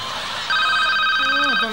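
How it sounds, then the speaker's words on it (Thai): A mobile phone ringtone starts abruptly and rings on as a steady electronic melody, loud and close, over background murmur in a Thai comedy stage performance. "โทรศัพท์มือถือ"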